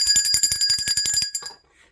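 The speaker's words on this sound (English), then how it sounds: "Let me ring the bell for that." A small bell is rung in a rapid, even burst of about a dozen bright metallic strikes over a little more than a second, then trails off into a short fading ring; it is close and clear, with no talking.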